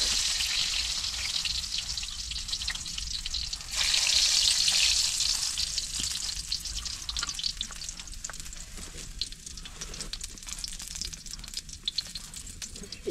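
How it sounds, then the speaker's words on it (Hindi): Garlic fries in oil over a wood fire, a soft steady sizzle that swells briefly into louder crackling before settling back down. The frying is close, with faint stirring and no talking. "इसमें तेल ओल डाल के बनाएंगे, आप लोग देख सकते हो लहसुन चाल रहे हैं"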